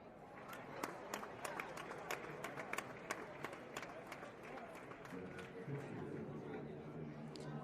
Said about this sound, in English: let's get crowd noise going